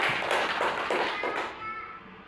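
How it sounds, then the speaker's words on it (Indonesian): A classroom of students claps for a presenting group during an Indonesian lesson, a few rhythmic, close-up claps in unison that stop abruptly partway through, leaving faint room noise. "Tepuk tangan untuk kelompok kinestetik."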